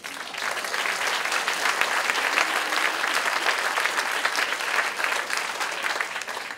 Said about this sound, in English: I think Declan deserves a round of applause.